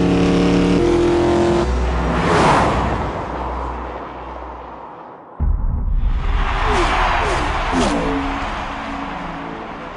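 A Ford F-150 pickup with an EcoBoost engine runs at Homestead Miami Speedway, its loud engine roar filling the scene, briefly dropping off before surging back with a rising pitch.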